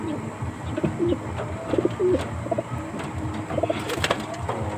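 Young pigeon, still missing its neck feathers, gives soft, repeated cooing calls close by, in short low bursts with some handling noise around it.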